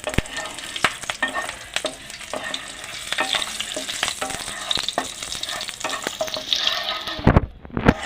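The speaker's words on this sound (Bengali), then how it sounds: "এবার তেলের মধ্যে ফোড়ন দিয়ে নেব প্রথমে গোটা সাদা জিরে একটা শুকনো লঙ্কা একটা কাঁচা লঙ্কা দিয়ে নাড়িয়ে নেবো" Whole white cumin seeds with one dried and one green chilli tempering in hot oil, a crackling sizzle broken by repeated sharp scrapes and taps of a spoon stirring the pan, close and clear with no talking.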